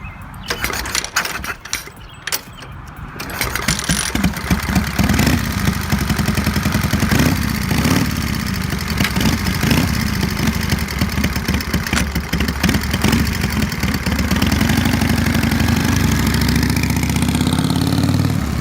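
A 1929 Indian 101 Scout V-twin motorcycle engine cranks with rough clattering bursts, then catches and settles into a loud, steady, close-up idle with a dense mechanical rumble that runs on alone.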